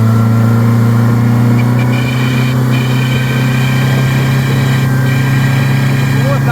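A 2020 Mercury 50 hp four-stroke outboard running at 4,000 RPM: a loud, steady engine hum with a thin, high squealing whine running through it.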